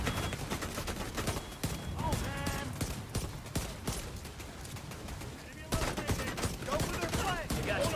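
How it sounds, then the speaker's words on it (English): Rapid gunfire bursts in the video game The Division 2, dense and continuous with sharp repeated shots, heard alongside game effects and talk from players. "Taking heavy fire."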